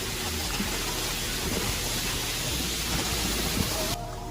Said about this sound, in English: A storm hit Michigan with fierce winds and rain, causing a scene of devastation that was completely unpredictable.